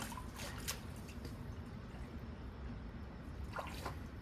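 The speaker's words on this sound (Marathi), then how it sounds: "हे बघा पाणी येतं भरायला" Cold mountain spring water trickling into a container outdoors on a ghat trail, a faint, continuous soft splashing with a few brief drips, no voices.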